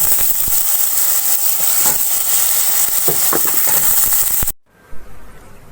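Loud steady sizzle of cut, washed potatoes dropped into hot oil, with crackling pops and a few clinks of a utensil before the frying noise cuts off.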